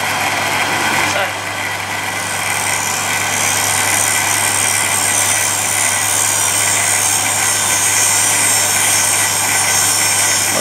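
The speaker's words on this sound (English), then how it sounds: "It's actually a bench grinder stone and I can get away with that." A hard bench grinder stone, apparently a Norton wheel, grinding steadily against metal, a loud continuous whirring drone with a steady hum beneath it, with someone talking over the noise.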